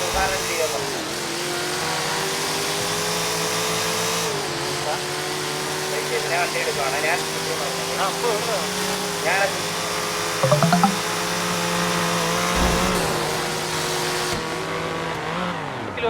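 A car driven in a video game roleplay, its engine droning steadily with rising and falling revs and shifting pitch for the whole stretch, with voices talking over it.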